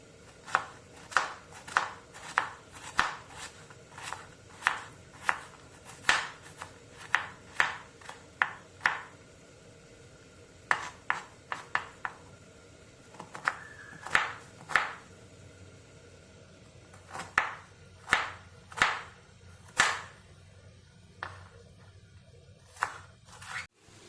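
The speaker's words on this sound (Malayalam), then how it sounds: "ഇതേപോലെ കനം കുറച്ച് ചെറുതായിട്ട് ഇങ്ങനെ കട്ട് ചെയ്തെടുക്കാം" Knife slicing banana stem thinly for a Kerala cherupayar toran, a steady run of crisp, evenly spaced chops on a board, close and clear with no talk.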